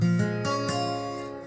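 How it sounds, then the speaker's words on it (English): A single strummed guitar major seventh chord rings out with a bright, sustained tone, re-struck lightly a couple of times before decaying, no voices present. "That's the standard major 7 right there that I just played."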